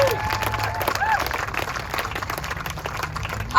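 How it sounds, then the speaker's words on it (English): Audience applause for Senator Duckworth at a Chicago event about the 2024 DNC convention, steady crowd clapping with a faint voice over it at moderate distance. "So we can applaud her."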